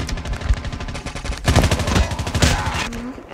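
Rapid automatic gunfire from the mobile shooter Call of Duty Mobile crackles in dense, continuous bursts, loud and close, with a brief pause near the end.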